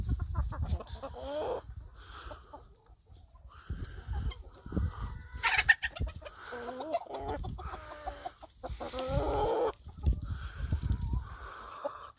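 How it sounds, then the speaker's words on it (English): Guinea fowl and chickens on a farm give repeated harsh clucks and chattering calls in irregular bursts, fairly close and moderately loud, with other poultry noises mixed in. "African game bird."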